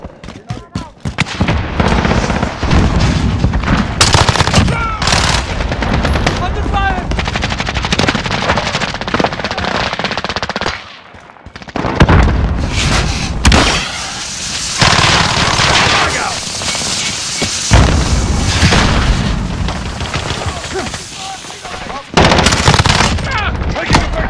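Loud, near gunfire and booming called-in strike explosions from the Modern Warfare video game, with a P90 in use: dense rapid bursts broken by short pauses, and voices now and then over the fighting.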